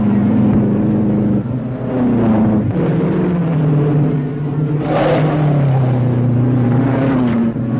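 Race cars pull away at the green flag, their engines roaring loudly and continuously, pitch sliding down and rising again as the pack moves off, with no voices.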